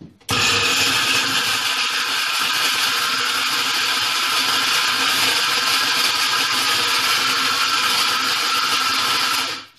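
A blender grinds walnuts and almonds together, a loud, steady whirring roar that starts abruptly and runs continuously for nearly ten seconds before cutting off, with no talking.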